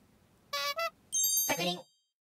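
A notification bell ding rings out clearly as a short sparkling chime with a quick second strike, followed by a brighter jingling tone that blends into a brief voiced sound before fading to silence.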